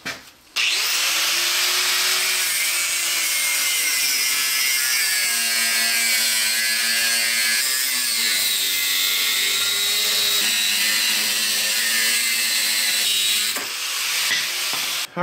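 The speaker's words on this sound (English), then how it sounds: "So let's get the grinder and start cutting." An angle grinder cuts an old brake rotor to make wheel spacers, a loud continuous close-up whine with shifting pitch that runs for about thirteen seconds before stopping abruptly.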